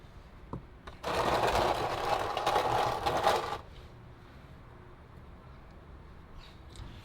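A wrench tightens a bolt on the transmission of a 2011 Subaru WRX, making a fast run of close mechanical clicks that lasts about two and a half seconds. The sound is fairly near, with quiet surroundings before and after and no talking.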